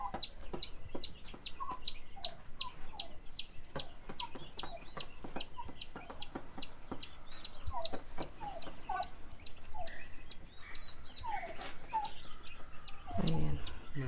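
Free-range backyard chickens, a mother hen with her chicks, with rapid, constant high-pitched chick peeping over scattered clucks from the hen, busy and close, with no talk.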